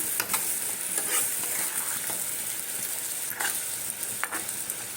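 Curry frying in oil after hot water has been added, stirred in the pan: a steady hissing sizzle with occasional soft scrapes from stirring, close and continuous, without speech.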